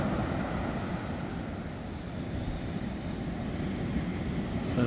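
Ocean surf at night at Coledale Camping Reserve in New South Wales, heard from inside a campervan: a constant, broad roar of waves with a dull, muffled wash and no distinct breaks.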